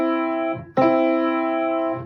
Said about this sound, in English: when you try to press down the two notes and it sounds like this